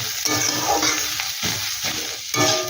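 A spiced potato snack filling with chopped coriander is stirred in a pan, several distinct spatula scrapes over a steady frying sizzle, close and loud, with no voices.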